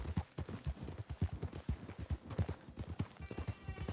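Horse hooves in the video game Red Dead Online, a steady clip-clop of rhythmic hoofbeats at a trotting pace, fairly quiet and close, continuing without pause with no voices over them.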